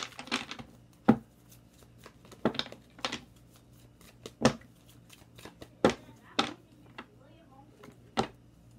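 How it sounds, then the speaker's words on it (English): Tarot cards being shuffled by hand, a series of sharp riffling bursts spaced irregularly, close and clear with quiet gaps between them. "Let me just go ahead and get two more shuffles"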